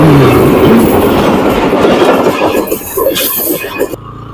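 Train rolling past on a railway track near Dina, Jhelum, a loud, close rumble with rhythmic clickety-clack of the wheels and brief squeals that ends abruptly.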